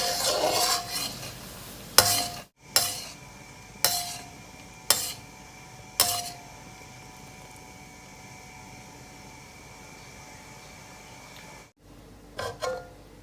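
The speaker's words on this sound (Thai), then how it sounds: "เราจะเคี่ยวไปเรื่อย ๆ นะครับ" Tamarind sauce simmers in a pan as a utensil stirs it, giving about six evenly spaced scraping clanks over a soft steady bubbling hiss, then a quiet stretch before a few more scrapes near the end.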